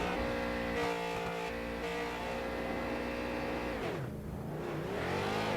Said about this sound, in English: Little victory burnout there from Thomas Axum.